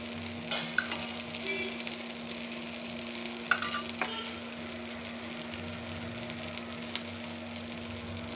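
Oil sizzles under an adai dosa frying on a pan, a soft, steady crackle with a constant faint hum and a few sharp clinks or taps scattered through; no talking.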